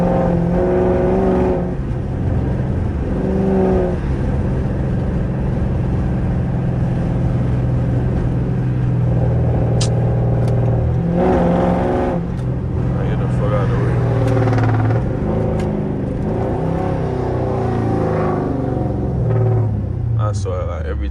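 A 400-plus horsepower Dodge Charger R/T driven through city streets, its engine rumbling loudly with several sharp revving bursts and accelerations, heard close from inside the car over a steady low drone.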